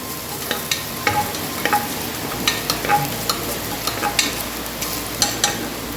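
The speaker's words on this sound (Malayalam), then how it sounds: "ഇഞ്ചിയും വെളുത്തുള്ളിയും കൂടെ ആദ്യം ഇട്ട് കൊടുത്തു" Ginger and garlic sizzle steadily in a hot pan for soya masala, broken by a regular series of sharp spatula scrapes and taps, close up with no voices.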